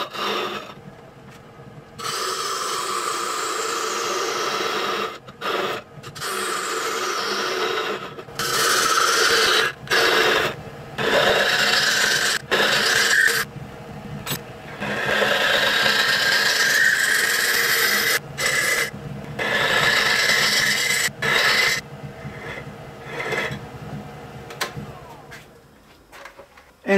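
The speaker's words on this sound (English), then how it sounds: "give it a good sanding" Sandpaper rasps against a small spinning wooden top in long, steady passes, close by, with brief pauses between stretches of abrasive whirring.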